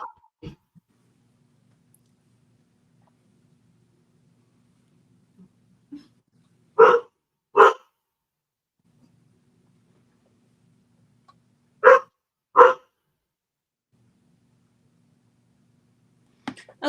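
A dog barks in two spaced pairs of sharp, loud barks, each pair quick and close together, with near silence in between, heard in an indoor room during a sewing session.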